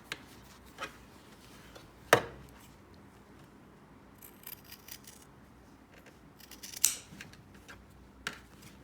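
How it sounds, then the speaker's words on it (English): Scissors snip through fabric and quilt batting on an iPad mini cover in a few short, separate cuts spread across quiet stretches, each crisp and close. "Again, I'm going to trim away some of this batting because we don't want all that bulk."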